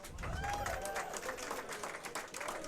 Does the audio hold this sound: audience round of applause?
yes